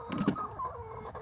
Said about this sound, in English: There's one chicken.